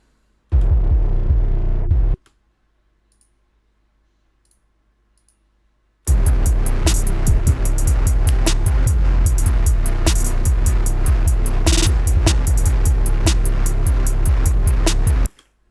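Distorted 808 bass layered with heavily distorted synths plays loud and dense, a brief burst at the start, then a pause of near silence, then a long continuous full-band stretch with pulsing low hits until it cuts off.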